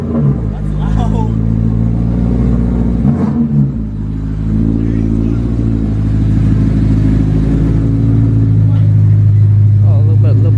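Up close, a BMW E90 fitted with a Macht Schnell straight-pipe X-pipe exhaust idles with a deep drone, then revs hard in rising pulls, its tone climbing and holding loud while voices speak in the background.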